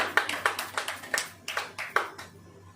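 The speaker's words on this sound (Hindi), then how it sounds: "ताली बजाओ।" Hand claps from a worship gathering during a Hindi sermon, about a dozen fairly even, distinct claps in a steady rhythm, moderately close with a quiet room behind.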